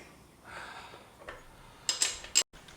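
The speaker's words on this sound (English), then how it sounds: "First things first, gotta bust the nut." A wrench breaking loose the rear axle nut on a Benelli TNT 135 motorcycle, heard as a few sharp metallic clicks and clanks near the end after quiet shop noise.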